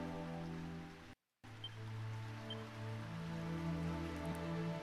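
Steady rain falls in the video game Dragon Quest III HD-2D Remake as a soft continuous patter, quiet and even, broken by a brief dropout of silence, with faint game music tones underneath.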